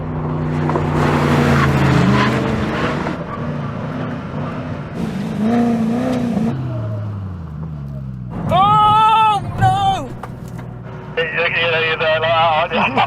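A Koenigsegg Regera and an Agera RST make a full emergency stop at the cones during a drag race. A loud engine roar winds down in pitch, then bursts of high squealing tones and renewed engine noise follow.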